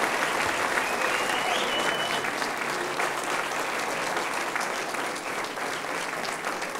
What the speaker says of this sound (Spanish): Aplausos para María Belén y Francisco Sánchez.